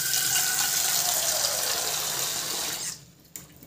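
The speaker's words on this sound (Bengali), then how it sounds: "পরিমাণ মতো আমি জল দিলাম" Tap water runs steadily for about three seconds as it fills a pressure cooker holding peas, a continuous close gushing that cuts off abruptly near the end.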